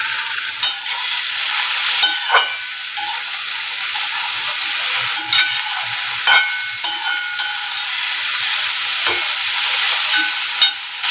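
Onion, tomato and curry leaves fry together in a pan, giving a loud, close, steady sizzle with bursts of stirring scrapes, and no voices.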